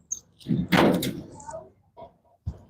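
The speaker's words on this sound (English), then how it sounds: "let me open my door" A door is opened indoors with a short burst of handling noise, clicks and a soft thud, fairly close, amid brief quiet pauses.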